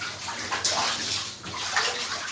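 A child splashes and dunks in a small play pond, making close, continuous sloshing and rushing water with a couple of stronger surges.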